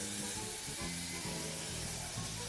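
Pieces of mutton browning over high heat in a hot pan, a steady broadband sizzle and hiss with faint low clatter of stirring underneath.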